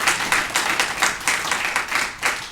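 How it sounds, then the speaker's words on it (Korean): A church congregation at a Christmas Sunday service claps for the choir in a rhythmic burst of separate, distinct claps. The sound is fairly close and comes without talk. "우리 성가대 한번 격려하면서 박수 한 번 더 하겠습니다"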